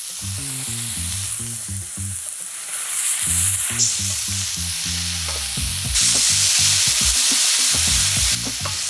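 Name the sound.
chopped mushrooms and onion frying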